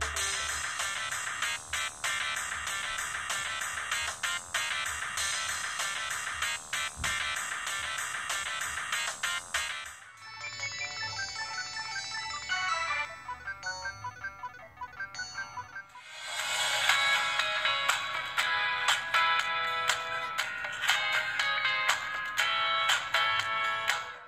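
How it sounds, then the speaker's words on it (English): An old Samsung SGH-Z370 mobile phone plays music through its small speaker, running through three tinny, bright tunes in turn (MP3, MIDI and SMAF), each steady and continuous, with short shifts between them. "This phone can play MP3s as well as MIDIs and SMAF."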